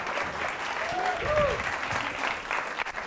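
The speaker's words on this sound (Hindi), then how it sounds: "विकी सनी के लिए बहुत सारे तालियां" Applause from a TV morning show studio audience fills the clip, steady and fairly loud, with a voice or tonal sound briefly rising over it midway.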